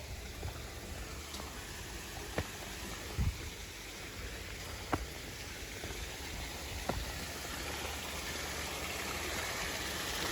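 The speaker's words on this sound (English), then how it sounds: "Top of a little waterfall" A small waterfall in the children's garden of a botanical garden in the Ozarks gives a steady, close, broadband rush of falling water, with a few brief splashes and drips standing out, and no voices.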